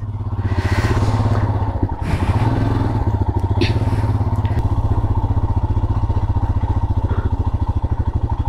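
Royal Enfield Bullet motorcycle riding along a hill road in the Nilgiris near Ooty, its engine thumping in a steady, loud, continuous rhythm close by, with some clatter and wind noise over the top.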